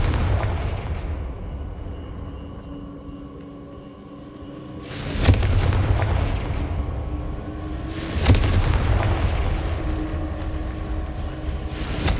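Confringo fire spell explosions in Hogwarts Legacy: three heavy booming blasts spaced a few seconds apart, each a sharp crack followed by a deep rumbling tail, over a constant low roar, with no talking.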